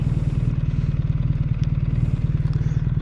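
A BMW R1300R motorcycle being ridden, its engine droning steadily and loudly with a fast even pulse, close up and unchanging for the whole stretch, no talking.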